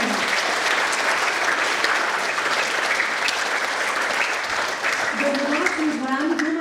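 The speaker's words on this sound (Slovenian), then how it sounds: "En aplavz." Audience applause in a concert hall at a youth awards event, sustained dense clapping across the whole span, steady and fairly loud, with a voice starting to speak over it toward the end.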